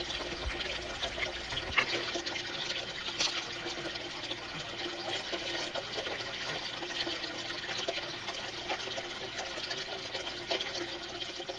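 Water runs steadily through a fine-gold sluice fitted with Vortex mats, a continuous even rushing and trickling flow heard up close and alone, with no voices.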